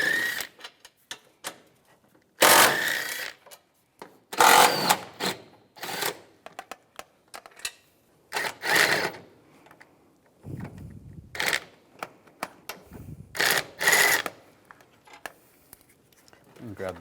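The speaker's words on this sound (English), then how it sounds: "Then take these bolts off on both sides using a 13mm socket." Ratcheting 13mm socket wrench loosening intake manifold bolts on a 2004-2010 BMW X3, heard as bursts of clicking ratchet strokes in irregular runs, close and fairly loud, with short pauses and a few handling noises between them.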